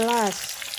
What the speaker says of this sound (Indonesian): kita goreng tempe dan tahunya untuk makan siangnya